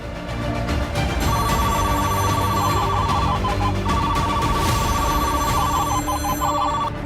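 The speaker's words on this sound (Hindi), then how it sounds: "मोबाइल पर अलर्ट अलार्म बनाने का काम चल रहा है।" Mobile phone emergency alert alarm: a loud, steady electronic tone pattern with repeating beeping bursts held over a constant noisy bed, continuous for several seconds without speech.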